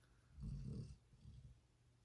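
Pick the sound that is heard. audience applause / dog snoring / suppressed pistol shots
dog snoring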